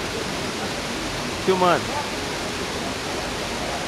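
The Cachoeira do Robertão waterfall in Amparo rushes as a constant, broad roar, with a voice speaking briefly over it partway through.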